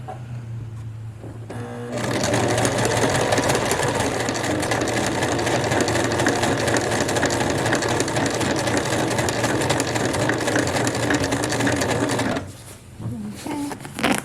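A sewing machine stitches a pants waistband with a zigzag stitch, a fast steady mechanical whir running for about ten seconds, with quieter handling sounds before and after.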